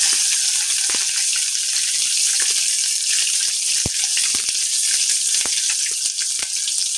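Curry leaves, peanuts and chopped onion sizzle steadily in hot oil, a close, continuous frying hiss with scattered pops and crackles and no talking.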